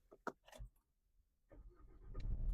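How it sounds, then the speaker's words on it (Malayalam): A few soft clicks and taps of a push-button start, then a Mahindra XUV 3XO automatic SUV's diesel engine turns over and settles into a steady, deep, growing rumble close by. "ഓക്കെ വണ്ടി സ്റ്റാർട്ട് ആയിട്ടുണ്ട് കേട്ടോ നമ്മളെ diesel engine back to life"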